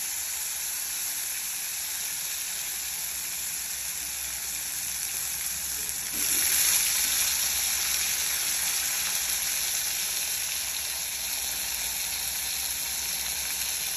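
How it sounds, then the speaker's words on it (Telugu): Eggplant pieces frying in hot oil with tempering seeds and asafoetida in a pan for eggplant tomato curry, a steady close sizzle throughout that swells slightly louder as the vegetables go in midway. "ఇందులో నేను తాలింపు గింజలు వేసాను, ఇంగు వేసాను, వంకాయలు వేస్తున్నాను"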